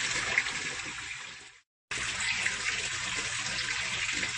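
Water from an aquaponics media bed rushes out as it dumps, a steady broad gush that cuts out briefly and then resumes, with no voices.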